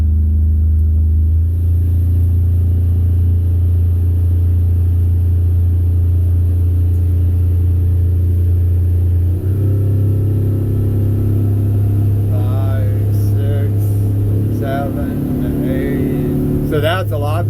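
A Defiance 250 boat runs on one motor with a loud, steady engine drone that steps up in pitch partway through, and someone talks over it near the end.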